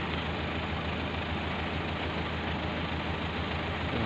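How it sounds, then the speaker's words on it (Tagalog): An improvised cargo vehicle's engine idles nearby with a continuous low, rumbling drone that stays steady and unbroken throughout, with no voices heard. "May makina ay sasakyan."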